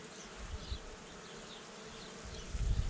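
Honey bees buzzing in a steady close swarm as a frame is shaken at the hive, a continuous drone with a louder thump and rustle near the end.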